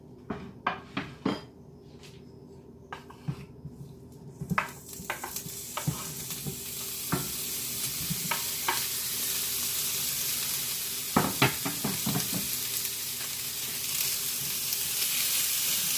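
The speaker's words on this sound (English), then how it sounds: "I can go ahead and brown the beef here." Beef for feijoada browns in a pan heated on high, a steady sizzle that swells louder over time, punctuated by sharp utensil clinks and scrapes against the pan.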